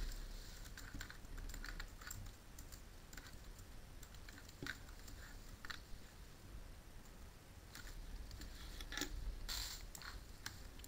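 Quiet, irregular keystrokes tap on a computer keyboard in short bursts and scattered single clicks, close and soft, with no talking.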